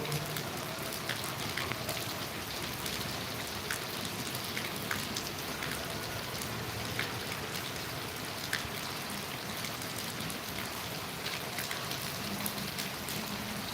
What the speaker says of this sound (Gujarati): ગોંડલની અંદરમાં ફૂલ વરસાદ ચાલુ છે મિત્રો